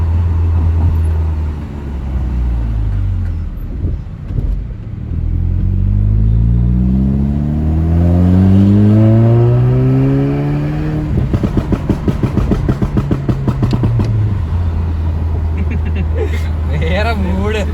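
Stage 2 remapped Skoda Laura 1.8 TSI tuned to 220 bhp accelerating hard, engine note climbing through gears with loud rising revs, crackling pops on a shift, then settling to a steady cruising drone.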